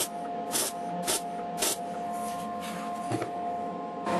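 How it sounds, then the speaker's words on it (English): MIG welder laying short bursts on sheet metal for a Willys CJ2A body, several separate crackling hisses in an uneven rhythm over a steady hum, close and moderately quiet. "I guess you can use a MIG welder on slightly dirtier stuff"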